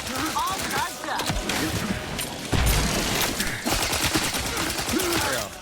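Guards open fire in The Outer Worlds 2, sustained bursts of gunfire crackling and booming close by in rapid clusters for several seconds, with no voices over the shooting.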